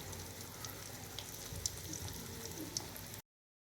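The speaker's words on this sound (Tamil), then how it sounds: "நல்லா நிலக்கடலை ப்ரௌன் ஆகிற வரைக்கும் நல்லா வதக்கி விடணும்" Peanuts frying in a pan with asafoetida, giving a quiet, steady sizzle with a few sharp pops and crackles over about three seconds, followed by silence.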